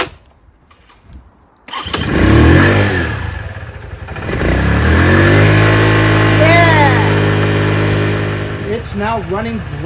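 A small scooter engine, battery just replaced after sitting all winter, starts after a quiet moment and settles into a steady, loud idle with slight revs, while a person talks over it.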